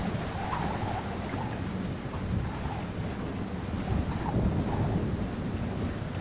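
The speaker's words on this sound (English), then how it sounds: "Thunderstorms make me nervous." A stormy night in the video game Splinter Cell Chaos Theory brings a steady wash of wind and water noise with a low, continuous rumble, moderately loud throughout with no clear thunder crack.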